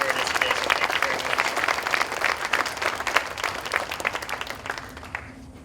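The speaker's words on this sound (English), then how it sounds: "please give these guys a round of applause" Audience applause at a Special Olympics Arizona Healthy Athletes opening ceremony, a dense, steady clapping crowd that carries on for several seconds before tapering off, with some voices mixed in.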